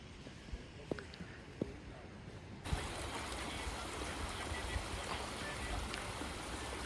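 Mountain water from a trek near Kareri lake rushes steadily, a dense continuous wash that begins abruptly and stays loud, with a few faint knocks beforehand.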